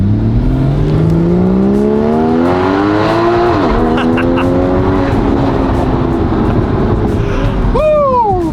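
A Porsche Cayman GTS Street Cup accelerates hard through a tunnel, its engine note climbing through the gears with a brief shift dip, loud and echoing, then revving sharply again near the end.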